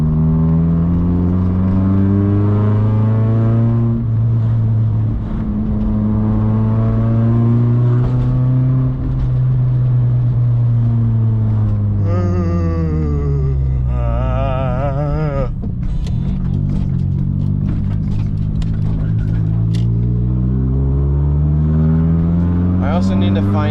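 A car's exhaust drones loudly while driving, its engine note rising and falling through gear changes, with crackling pops on deceleration; the sound is steady, close and continuous.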